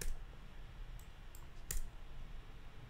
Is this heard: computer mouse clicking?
yes